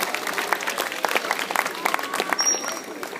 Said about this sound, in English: let's give our dolphins and trainers a round of applause to start off our show.